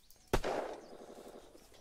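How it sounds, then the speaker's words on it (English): A double barrel shotgun blast in the video game Unturned: one sharp, loud report followed by a short, ringing decay. "It's a double barrel shotgun. Uses the shotgun shells."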